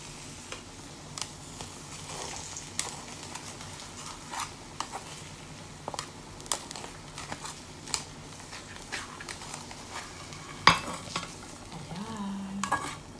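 Egg frying in a kawali makes a quiet, constant sizzle, broken by scattered sharp taps and scrapes as a utensil stirs it against the pan, one louder clack standing out near the end.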